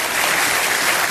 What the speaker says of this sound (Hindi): तालियां बजती रहनी चाहिए देवी और सज्जनों